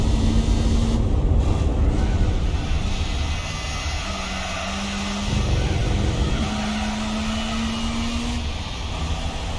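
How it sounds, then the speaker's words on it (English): A carbureted 1970s mid-engine car's engine in Gran Turismo 4 drones loud and steady, its pitch dipping and climbing through gear changes with no talk over it. "I love the sound of the carburetors on this car."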